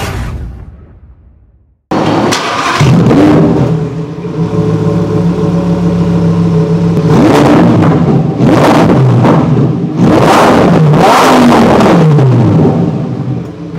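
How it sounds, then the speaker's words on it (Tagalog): Performante sports car exhaust revving hard, loud and close: a deep, sustained engine roar swelling through several sharp throttle blips and dropping back between them. "Ito nga pala ang exhaust sound ng isang Performante."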